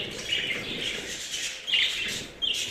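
Pet birds bathing: wings flutter and splash in water amid bright bird chirps, with bursts of flapping and patter rising at intervals.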